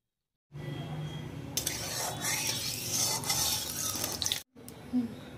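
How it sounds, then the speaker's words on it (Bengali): Oil goes into a wok for Bengali-style ghugni of curried yellow peas, with a steady rushing, faintly sizzling pour lasting several seconds, followed by a short pause and a light metallic clink. "কড়াই তেল দিলাম।"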